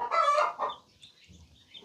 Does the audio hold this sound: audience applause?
no